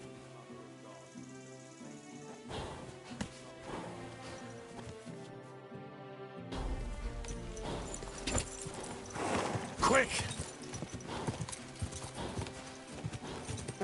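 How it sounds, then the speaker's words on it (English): Horse hooves clip-clop in the medieval video game Kingdom Come Deliverance 2, a quiet steady walking rhythm over game music, then picking up into busier, louder hoofbeats; a player's voice briefly speaks. "Okay, we've got a horse."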